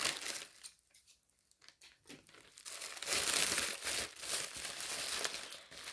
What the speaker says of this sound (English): So I'm going to open this up now.